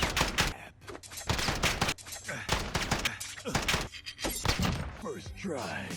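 Weapons in Call of Duty Modern Warfare 2019 let off bursts of gunfire, repeated sharp shots and thuds that come in clusters, mixed with other crashing game effects.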